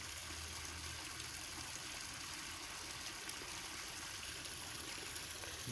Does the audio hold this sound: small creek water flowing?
yes